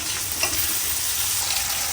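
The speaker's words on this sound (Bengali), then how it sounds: "এখন আমি এই তেলের মধ্যে মশলা কষিয়ে নিব, তাতে পেঁয়াজ দিয়ে দিব।" Spices and onion frying in hot oil make a loud, dense, unbroken sizzle, close up and alone.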